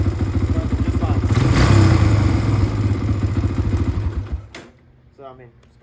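A sport quad ATV engine starts and revs with a loud, rapid mid-pitched putter that swells and then drops away, leaving quiet with a few faint sounds afterward.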